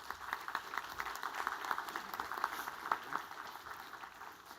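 Audience applause at a Griffith College Dublin graduation ceremony, a steady wash of many hands clapping at moderate distance, sustained evenly throughout without voices standing out.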